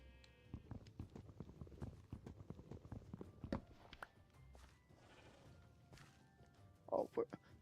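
Hooves of a horse in Minecraft clop along in a quick, uneven series of light taps while someone talks over them, ending with a couple of louder thumps.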